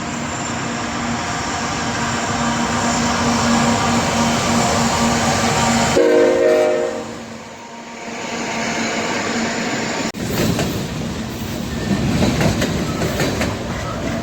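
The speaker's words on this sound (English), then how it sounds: "And here is a train coming." A train rolls along the tracks near an abandoned roundhouse and coal tower, a loud, steady rumble with horn-like tones early on, dipping briefly before the roar of the passing cars swells again.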